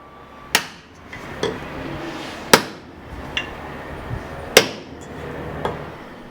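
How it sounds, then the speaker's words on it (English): A hammer drives a wooden wedge into the handle of a forged Francisca battle axe: three sharp, ringing metallic strikes about two seconds apart, each followed by a softer tap, close and loud. "Once you feel that solid thunk, you know that your wedge has gone as far as it's going to"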